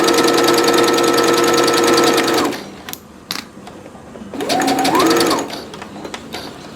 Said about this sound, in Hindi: अब यहाँ से जो है हमने इसको सिलाई लगानी है स्ट्रेट।